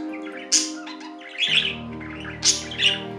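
Bright, sharp chirps and squawks from a budgie, a few bursts over a steady tonal hum, close and fairly loud.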